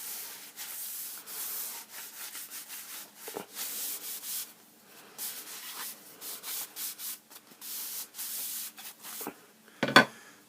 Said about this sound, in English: I'm just going to give this a quick wipe.